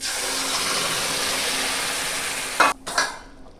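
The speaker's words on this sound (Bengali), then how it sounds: "ডাল সেদ্ধ করে রেখেছিলাম যে ডালটা সেটা আমি দিয়ে দেব" Boiled chickpea dal hits fried spices and grated coconut in a pan, giving a steady, close frying hiss that ends in a couple of sharp clatters as the pouring finishes.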